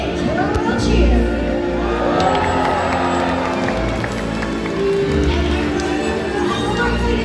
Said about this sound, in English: give him a great big killer whale cheer